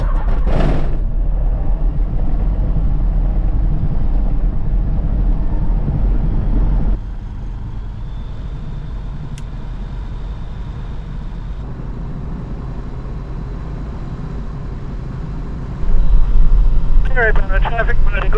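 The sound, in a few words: Super Dimona HK36TTS motor glider engine running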